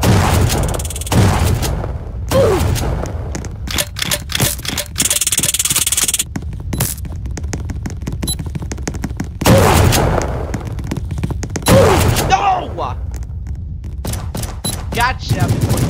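Gunfire in the Roblox game Prison Life: dense, rapid bursts of synthetic shots and booms crowd together over a busy game soundscape, with voices mixed in at times.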